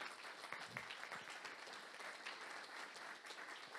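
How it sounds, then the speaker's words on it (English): An audience applauding after a panel discussion, a dense steady clatter of many hands clapping throughout, fairly distant and even. "One round of applause again,"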